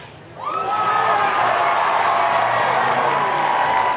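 A baseball crowd erupts into loud cheering, whoops and applause for Tim Tebow, swelling quickly after a brief lull and staying at a sustained roar.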